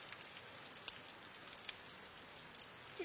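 Rain falls steadily as a soft, distant hiss, with a couple of faint drop ticks and no voices.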